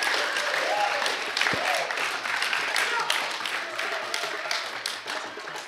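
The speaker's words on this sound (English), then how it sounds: "Give him a round of applause, ladies and gentlemen." Guests at a charity gala applauding steadily, a moderate wash of many hands clapping with the host's voice audible over it.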